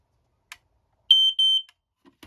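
A garage smoke detector from 2004, sticky with aerosol residue, gives two short shrill beeps during a fire alarm system test, preceded and followed by faint clicks in an otherwise quiet room.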